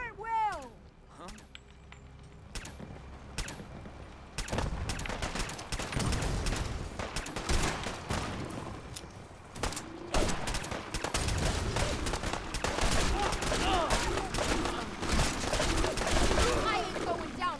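A Fallout 4 battle against Gulpers at Far Harbor erupts into dense, overlapping gunfire, with rapid shots and bursts filling the scene, while shouting voices call out at the start and over the shooting.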